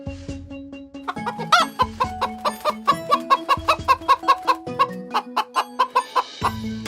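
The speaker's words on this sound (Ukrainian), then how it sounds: "Так, це квохче курка." A hen clucks repeatedly in a rapid, rhythmic series of short calls, close and clear, with a few drawn-out squawks mixed in.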